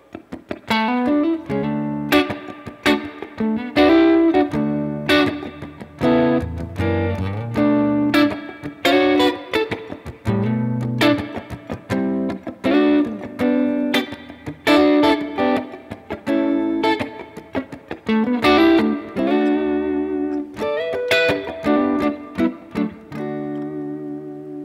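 Guitar plays a basic gospel chord progression moving 7-3-6-5-1-4 with a minor five chord, a steady run of strummed and picked chords, loud and close with no talking, each chord change clearly struck over about twenty-five seconds.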